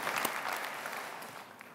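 Keynote audience in Paris applauding, a thick continuous patter of many hands at moderate loudness that eases slightly toward the end, with a few sharper individual claps standing out.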